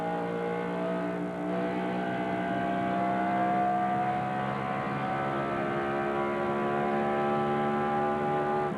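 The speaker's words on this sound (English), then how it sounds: "That was Jeff Burton's car" A NASCAR race car engine at the 2000 Pennzoil 400 sounds as a sustained, droning whine with steady tones that climb slightly. It holds an even, fairly loud level with no voices over it.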